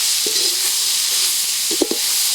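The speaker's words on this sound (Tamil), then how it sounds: "நல்லா மிக்சிங் பண்ணிக்கலாம்பா" Sliced onions with salt fry in a pan at an outdoor cooking spot, a steady loud sizzle broken by a few short scraping stirs near the end.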